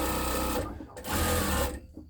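Sewing machine stitching quilt pieces, a close rapid mechanical whir in two short bursts separated by a brief pause.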